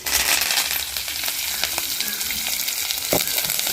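Onion and curry leaves frying in a pan, a constant bright sizzle close by with occasional clicks of a spoon against the metal, no voices.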